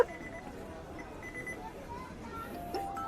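Repeating electronic beeps from a McDonald's timer sound faintly and steadily under background music and a murmur of voices.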